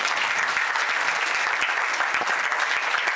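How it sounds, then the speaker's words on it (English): Continuous, loud applause from a large crowd of students at an MBBS orientation programme at HMCH Rourkela, dense overlapping hand claps sustained evenly from start to finish. "a big hand of applause for all of them"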